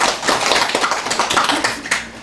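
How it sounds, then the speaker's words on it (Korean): A church congregation claps for the men's evangelism group during a New Year's Eve service, steady dense applause from many hands filling the room throughout. "우리 남전도에 박수 좀 쳐주시죠"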